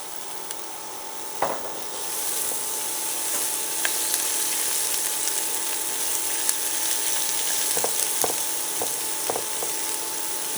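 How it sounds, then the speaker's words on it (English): Onions sautéing in fat in a pot for Zuppa Toscana soup, a steady quiet sizzle running throughout with a few sharp clicks and scrapes of a utensil against the pot. "We're going to put the onions in first and let them saute for a few minutes."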